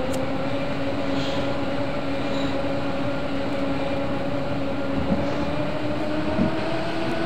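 In a Train Simulator game, a Berlin U-Bahn train gathers speed toward Theodor-Heuss-Platz with a steady, slowly rising electric motor whine over a dense rumble of wheels on rails. It sounds close and continuous, with no talk.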